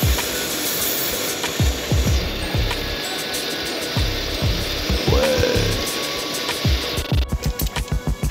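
A rotary power tool fitted with a brush works over car parts from a low-cost Renault Mégane track project, a steady close whirring grind broken by short pauses and rhythmic ratcheting bursts near the end.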